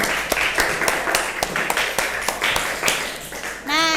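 Classroom applause for students after a poetry lesson: a group claps in a steady, fairly quick rhythm of sharp claps, and a voice cuts in at the very end.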